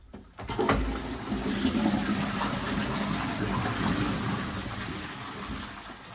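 A toilet flushes after its pan connector has been replaced, a rushing gush of water that starts abruptly, holds steady, then slowly tapers off as the cistern refills, close by with no talking.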